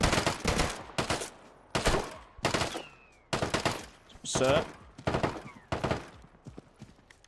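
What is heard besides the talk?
gunfire from the video game Deadside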